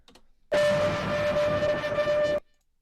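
A single loud, harsh, buzzing distorted piano tone with a steady pitch sounds for about two seconds, then cuts off abruptly.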